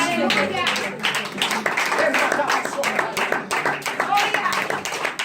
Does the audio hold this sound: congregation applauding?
yes